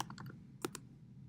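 Keys tapped on a computer keyboard while entering a spreadsheet budget, a handful of close, quiet clicks in a quick uneven run with a louder pair of strokes near the end, alone over a low room hum.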